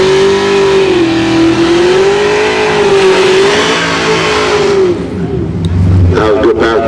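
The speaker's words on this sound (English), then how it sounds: "That was a good pass by both cars." Drag racing cars launch and accelerate down the strip at Orlando Speed World, a loud sustained engine roar that holds a steady howl and then fades as the cars pull away, with a brief burst of noise at the end.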